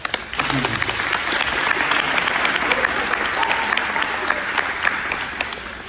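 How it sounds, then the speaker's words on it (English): Audience applause at a 2019 fifth-grade graduation at Gullatt Elementary School, a dense crowd of clapping swelling in quickly and holding steady, with scattered voices mixed in. "So I'm going to give you a round of applause."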